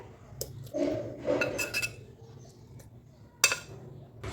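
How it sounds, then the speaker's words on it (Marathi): Onion-garlic masala being transferred into a mixer bowl brings a few soft scrapes and light clinks of a spoon against the steel bowl, sparse and close. "आता मी एका मिक्सर बाउलमध्ये घेत आहे आपण तयार केलेला कांदा लसणचा मसाला"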